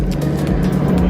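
A loud Porsche GT3 engine idles and revs at a track day at Streets of Willow, a dense close rumble filling the moment without a break.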